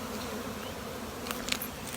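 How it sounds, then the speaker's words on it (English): A honeybee swarm hums in a bee yard, a steady close buzzing drone with a few brief louder passes of individual bees. "a swarm just means growth in a hive, going on in our bee yard"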